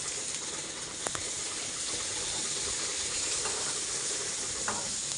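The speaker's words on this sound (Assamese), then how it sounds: "কেৰাহীখনত ধুনীয়াকৈ পিঁয়াজবোৰ দি পিনে এয়া অলপ অলপকৈ ধুনীয়াকৈ পিঁয়াজবোৰ এতিয়া লৰাই দিয়া হ'ব" Sliced onions sizzle steadily in a hot wok, the first step of an Assamese mustard fish curry, a close continuous frying hiss with a few soft stirring knocks and no talking.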